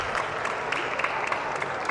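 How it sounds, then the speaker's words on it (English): Spectators at a girls' U14 indoor soccer final applaud an injured player, a steady ripple of clapping that echoes in the hall and continues evenly for a couple of seconds. "the crowd gives Kundu a round of applause"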